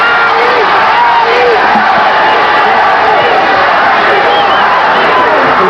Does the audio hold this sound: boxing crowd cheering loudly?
yes